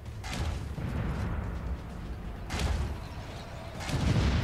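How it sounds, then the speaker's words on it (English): Artillery cannon fire in the VR shooter EVE Gunjack: repeated heavy booming shots with rumbling low end, three bursts over a continuous dense roar of in-game combat. "Right, I've got my artillery cannon."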